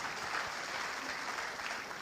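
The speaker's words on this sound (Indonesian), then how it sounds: "Yang sujud berikan tepuk tangan." A church congregation applauds during a sermon, giving a dense, steady wash of many hands clapping at a moderate distance that fills the whole moment.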